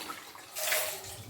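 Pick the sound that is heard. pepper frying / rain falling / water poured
water poured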